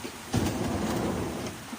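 Steady rain pours down outdoors, a soft continuous wash with a slight surge near the start.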